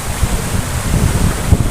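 Strong gusty wind buffets a microphone outdoors, producing a loud, continuous low rumble with irregular thumps and no clear voices.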